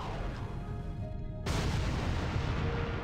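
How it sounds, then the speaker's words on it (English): A warp core explosion in the Star Trek Bridge video game lands as a sudden loud blast partway through, followed by a sustained roaring rumble after a steady hum of ship ambience. "Let's do a warp core explosion, see how good the shields are."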